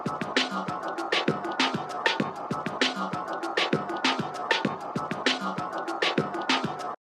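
A New Orleans-style music sample loop runs through a Waves SSL channel strip filter, giving a thinner, band-limited sound with steady rhythmic hits and crisp percussive transients at moderate level until it stops abruptly.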